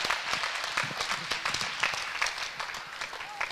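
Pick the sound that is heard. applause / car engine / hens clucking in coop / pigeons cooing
applause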